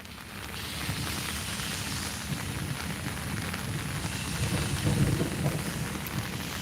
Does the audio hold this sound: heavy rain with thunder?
yes